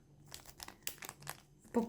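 Crisp crinkling of a plastic packet being handled, a series of sharp rustles and crackles close up, ending with a louder crunch.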